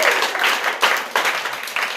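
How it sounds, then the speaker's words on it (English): A show audience breaks into applause, a dense and steady roar of many hands clapping close by, swelling in waves for a couple of seconds. "Applause again."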